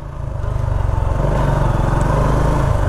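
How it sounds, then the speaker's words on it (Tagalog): Honda RS 125 Fi motorcycle engine running steadily during a test ride, a loud close low rumble with a fast pulsing beat that holds even throughout. "Drive test Honda RS 125 Fi."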